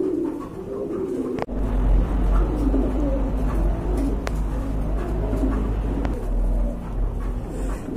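A pair of Bombay pigeons coo softly and repeatedly against a busy, noisy background, with a faint passing car.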